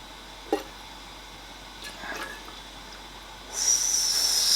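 Melted candle wax poured into a container: a single small knock early on, then a bright, steady pouring hiss that starts near the end and stays fairly loud, with no talking.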